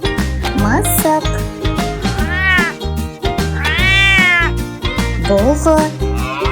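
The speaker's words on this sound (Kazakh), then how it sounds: "мысық" A domestic cat meows repeatedly, loud and close, with rising and falling drawn-out cries over a busy musical backing.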